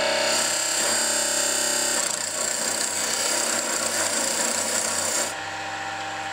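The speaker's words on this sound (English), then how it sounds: "I use a beading parting tool, 3/8." A 3/8 inch beading parting tool cuts into spinning wood on a lathe, making a steady close rasping scrape with the motor's hum beneath, and the cutting stops just before the end.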